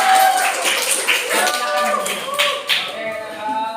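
A classroom group claps and cheers for a group that has just presented, a loud burst of applause mixed with many voices calling out at once.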